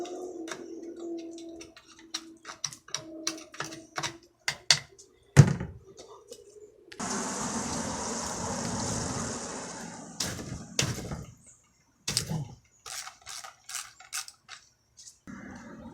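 A 3/8 ratchet works on the case bolts of a Craftsman transmission, giving bursts of quick metallic clicking, separated by clinks and brief knocks, with a longer stretch of scraping noise in the middle.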